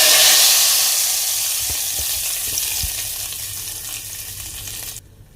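Hot oil sizzles loudly as a tempering is poured into cooked lentils (dal), the hiss fading steadily, with a few soft knocks.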